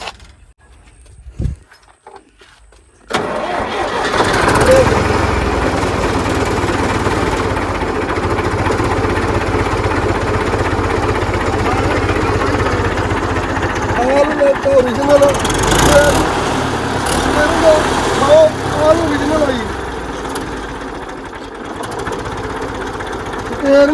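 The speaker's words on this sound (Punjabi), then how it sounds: "ਸਟਾਰਟਿੰਗ ਦੇਖੋ ਟਰੈਕਟਰ ਦੀ ਜੀ" After a few quiet seconds an old 1970 Belarus tractor engine abruptly starts and settles into a loud, close, steady chugging idle, with faint voices partway through.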